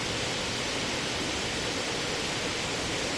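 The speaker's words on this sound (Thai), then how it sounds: "อีกด้านก็จะเป็นน้ำตก ไหลลงมา" A waterfall flowing down a mountainside at Pa La-u in Thailand, heard as a steady, dense roar of falling water that fills the whole stretch without change and with no voices.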